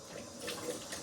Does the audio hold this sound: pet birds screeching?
no